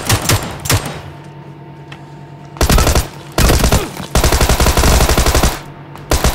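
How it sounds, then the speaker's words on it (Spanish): Gunfire in PUBG Lite, a battle royale shooter: repeated loud bursts of automatic shots in several clusters across the clip, with short gaps between volleys. "Hay tiros como por allá."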